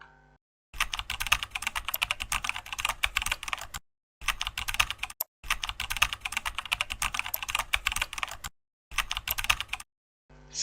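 Steady typing on a computer keyboard while entering text into an Excel organizational chart, close and crisp key clicks in several bursts separated by short silent gaps, no voices.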